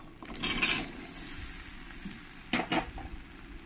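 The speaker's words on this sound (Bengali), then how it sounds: "এবার এর মধ্যে দিয়ে দেবো কাবলি ছোলা" Pressure-cooked kabuli chickpeas go into frying masala and are stirred. Two short bursts of scraping and sizzling stand out over a low, steady fry, with no voices.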